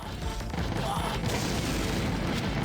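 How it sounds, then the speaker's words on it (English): A loud explosion bursts from a shot lamp in the video game Death Crimson 2, a dense, roaring blast with crackling debris that sustains at near-constant volume for a few seconds. "I shot that light and it caused a huge explosion."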